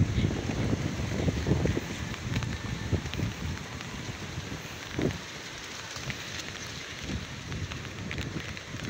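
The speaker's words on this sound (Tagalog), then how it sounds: "lumalakas po yung hangin" Strong gusts along a highway buffet the microphone in a constant rushing roar, with low thumping bursts and occasional louder blasts.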